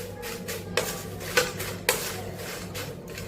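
A spoon clinks against a cooking pot in a home kitchen: three or four light metallic taps spaced unevenly, close and moderately loud over a faint background hum.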